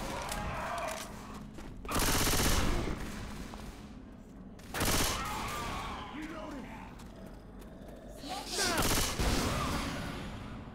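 Gunfire rings out in the Left 4 Dead 2 video game as three loud bursts of rapid shooting, separated by quieter stretches where players talk over background game noise.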